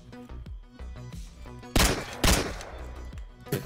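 A Tommy gun firing in PUBG: several sharp nearby shots over a low game background, including two loud cracks close together and a final softer shot, with no talking.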